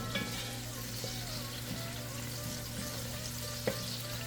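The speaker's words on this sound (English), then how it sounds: "I'm going to let this simmer for another minute before adding my tomatoes" Sweet peppers simmer in a pan as a steady, even bubbling hiss holds throughout, with a couple of faint clicks from the pan partway through.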